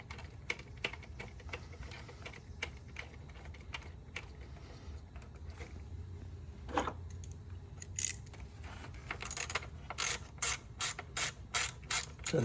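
Screws being started and snugged into a Ford Fusion purge valve make a run of small ratcheting clicks and mechanical ticks, quiet at first and then faster, sharper clicks in quick bursts near the end.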